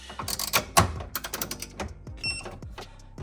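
A torque wrench ratchets and clicks as it tightens Cusco rear strut bar bolts on an Acura RSX Type S: close, irregular mechanical clacks and ratchet ticks in short clusters, with scattered metallic knocks between them.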